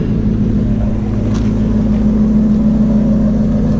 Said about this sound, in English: let me show you what the normal mode sounds like outside the car